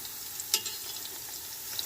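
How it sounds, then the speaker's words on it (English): Onion frying in oil until golden brown makes a soft, continuous crackling sizzle with one clear clink of a utensil, close but low in level. "I'm going to fry this onion until the onion is golden brown"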